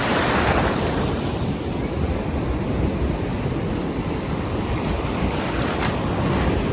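Sea waves breaking on a shore in the USA make a steady broadband wash of surf, loud and continuous, with wind buffeting the microphone and no talking.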